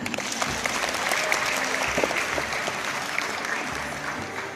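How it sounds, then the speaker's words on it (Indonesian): Audience at a school campus visit giving a round of applause after an opening address, steady dense clapping from many hands lasting the whole few seconds without talk. "Baik, boleh berikan tepuk tangan."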